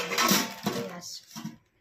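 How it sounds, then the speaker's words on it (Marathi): Metal clatter of the lid of a thick metal kadhai being handled, a few clanks and scrapes close by, with brief talking mixed in. "कढई आलेली आहे, कढईवरच झाकण आहे,"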